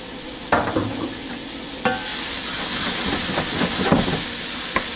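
Onions hit a hot buttered pan while cooking chicken marsala, giving a steady loud sizzling hiss broken by a few sharp clanks and stirring knocks.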